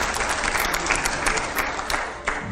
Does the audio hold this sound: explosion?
no